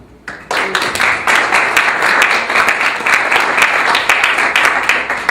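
An assembly breaks into loud, sustained applause after a candidate is declared elected by acclamation, dense clapping starting abruptly and continuing evenly throughout.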